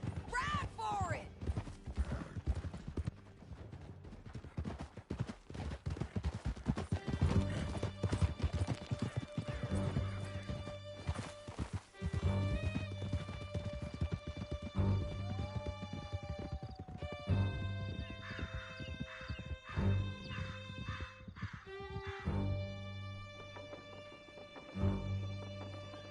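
Horses gallop in a PS4 video game, and their hoof clip-clops ring out alongside occasional neighs. A musical score plays underneath and voices speak at times during a long, busy ride.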